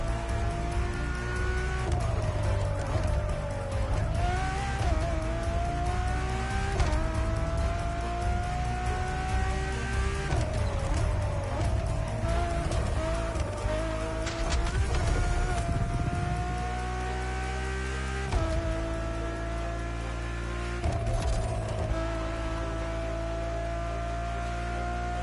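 A Ferrari hypercar in The Crew Motorfest howls as its engine revs up and down through gear changes, a loud, continuous whine with some tire squeal and no talk.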